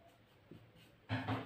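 A pen scratches briefly on paper while a math problem is worked out: a faint stroke midway, then two louder scribbling strokes near the end, close and quiet.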